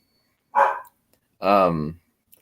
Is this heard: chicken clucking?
no